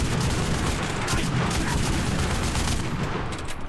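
Dense gunfire from the World War II shooter Enlisted on a Tunisia battlefield, loud and continuous for the whole stretch, with rapid shots blending into one another rather than separating into distinct taps.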